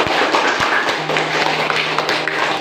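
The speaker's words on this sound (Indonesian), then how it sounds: "Kita berikan aplaus untuk kelompok 1" A classroom gives a round of applause for a student discussion group: dense, steady clapping from many hands fills the space for a few seconds at an even level.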